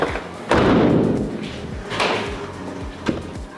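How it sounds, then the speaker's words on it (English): A Nissan Pulsar GTiR car door slams shut with a heavy thud, followed by a couple of softer knocks and a sharp clack as parts settle, all close and without talk. "Let's see if the door shuts."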